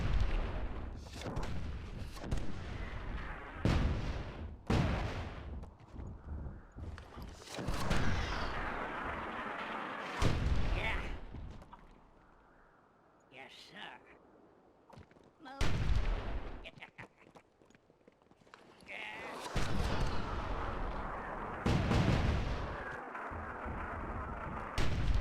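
Dwarven mortars fire in the Myth II: Soulblighter video game, a series of loud booming blasts in separate bursts with quieter gaps between them.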